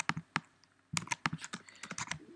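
Rapid bursts of close computer keyboard typing while writing PHP code, irregular clusters of crisp key clicks separated by a short pause, fairly quiet.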